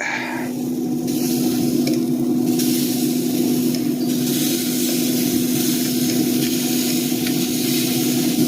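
A beef roast sizzles on a Traeger grill with a soft, continuous crackle and hiss under a steady low hum. There are a few brief shifts in the noise as the meat is turned.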